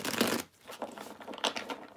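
A deck of playing cards is shuffled at close range in a couple of quick riffle bursts, crisp fluttering snaps followed by softer card handling, quiet with no talking.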